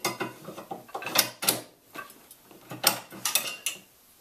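Metallic clicks and clacks of a hunting rifle bolt action working a dummy cartridge in and out of a freshly cut chamber, a quick series of sharp close mechanical snaps with brief pauses between strokes.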